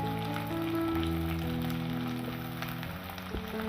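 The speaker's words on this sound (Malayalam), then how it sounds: "ഇനി ഇതിലേക്ക് ഒരു 15 ചെറിയ ഉള്ളി ചെറുതായിട്ട് അരിഞ്ഞതാണ് ചേർത്ത് കൊടുക്കുന്നത്." About fifteen finely chopped small shallots sizzling in a pan for Kerala-style beef roast, a quiet, steady frying hiss beneath sustained background music.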